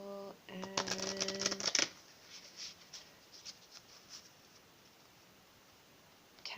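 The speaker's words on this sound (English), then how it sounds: "I'm going to do one quick shuffle" Tarot cards being given a quick shuffle during a reading, a rapid close riffle of card edges for under two seconds, followed by faint rustling handling and a brief spoken word.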